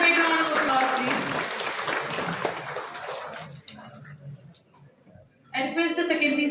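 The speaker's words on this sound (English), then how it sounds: "Everyone, a big round of applause" Crowd applause at a college national law conference, a dense burst of clapping that fills the first few seconds, then thins out and gives way to a voice speaking over a quiet room.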